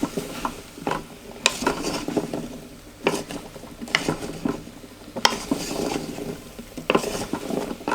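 A beef and parsnip stew stirred in a pot: a spoon scrapes and clacks against the pot in uneven bursts, with sharper knocks every couple of seconds, close and fairly loud over a low simmering sizzle.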